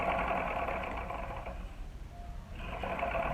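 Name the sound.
sewing machine stitching a seam on a small shoe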